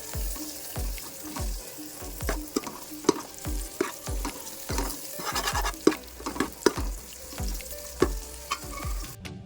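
Four or five green chillies frying in oil for a mushroom masala, crackling sizzle broken by repeated scraping and tapping strokes of a spoon, close and fairly loud.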